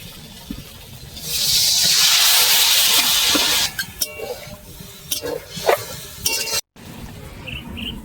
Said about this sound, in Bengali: এবার আমি একটু জল দেবো।